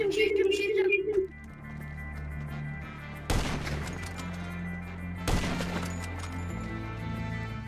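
Sniper rifle gunfire in GTA 5: two sharp broadband cracks a couple of seconds apart, each trailing into a low rumble, over game music and ambience, with a brief voice near the start.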